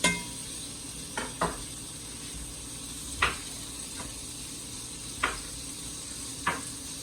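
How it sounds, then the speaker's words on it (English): Butter hits asparagus cooking in a pan and sets off a steady close sizzling hiss, broken by a few sharp utensil clicks as the spears are stirred. "The asparagus are almost done, so I'm gonna add a little butter."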